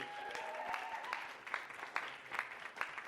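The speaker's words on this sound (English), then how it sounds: "Could get a round of applause for Systrix." Faint applause from a live audience at a sponsored talk, scattered claps building slightly over a few seconds, heard at a distance.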